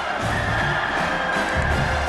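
Stadium crowd in College Football 26 roars steadily throughout, a dense continuous wash of cheering and shouting at even loudness with no break.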